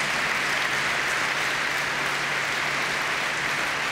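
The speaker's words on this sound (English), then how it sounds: "This is your applause" An audience at an awards ceremony for the Special Teddy Award applauds with steady, dense clapping that fills the whole stretch at an even level.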